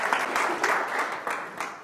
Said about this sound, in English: Give him a round of applause by way of encouragement.